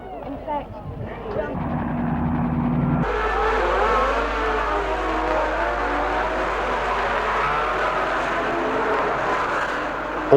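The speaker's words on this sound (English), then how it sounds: "All the cars got away cleanly." Formula 1 cars at the 1962 Belgian Grand Prix at Spa pull away from the start, a roaring engine drone that swells into a sustained loud blare with a commentator talking over the noise.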